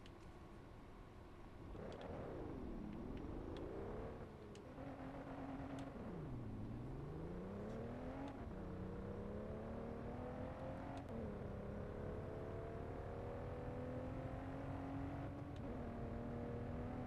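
Racing car engine in the driving game MR:T revs repeatedly, pitch climbing and dropping through gear shifts, then holding a steady high whine; loud and continuous with no talk.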